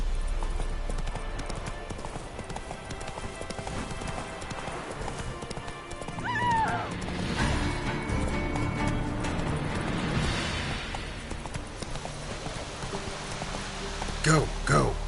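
Roach the horse galloping in The Witcher 3, a steady clip-clop of hooves with a whinny partway through, over ambient wind and rain, with a voice urging the horse on.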